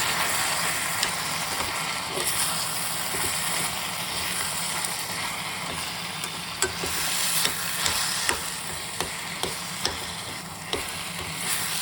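A Jamaican gravy mixture being stirred in a pan, with a steady scraping swirl over a soft sizzle. The stirring runs continuously and close, with a few sharper knocks near the end and no voices.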